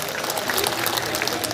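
A crowd at a public gathering with the Jammu and Kashmir Lieutenant Governor breaks into loud applause, a dense, steady burst of clapping lasting under two seconds.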